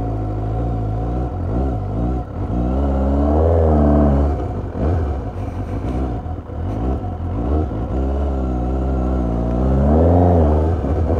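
A 2018 Suzuki GSX-S 750 sport motorcycle engine revs and accelerates close by, rising and falling in pitch through gear changes, steady and fairly loud.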